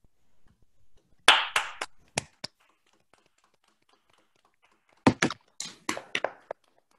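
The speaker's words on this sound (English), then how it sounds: "if you could just unmute to give Lyndsey a round of applause, please." A few people on an online call clap over unmuted microphones, two short sparse bursts of sharp, uneven hand claps separated by near silence, close and dry.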